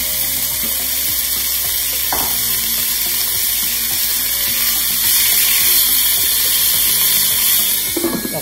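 Water running from a tap into a pan of marinated Thai-style beef strips, a steady broadband hiss that holds for the whole stretch and swells slightly near the end, with faint clatter of utensils underneath.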